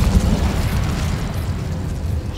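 A fiery Incendio spell blast from Hogwarts Legacy roars in a dense, loud burst of low rumble that tapers off over about two seconds, with no voices over it.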